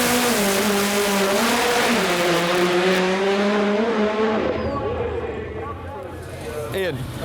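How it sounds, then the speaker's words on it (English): A drag racing car does a burnout on the drag strip, loud revving and spinning tyres holding steady before dropping away, while someone talks over the noise. "in some cases, the burnout is done across the start line, so when you nail the throttle, the tyre and surface bond together"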